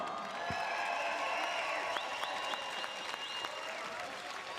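A large crowd at an MMA event at the Barclaycard Arena in Birmingham applauds and cheers in a big reverberant space, sustained loud clapping with scattered whistles and shouts.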